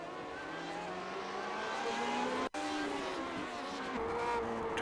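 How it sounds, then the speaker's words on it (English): Engine drone and tire squeal of a Classic Lotus Grand Prix race car in iRacing at the Detroit street circuit, loud and continuous as the car slides sideways into the wall, with a brief dropout midway. "Juha Noah Lampia, into the wall he goes, and that is his race done. His car is sideways."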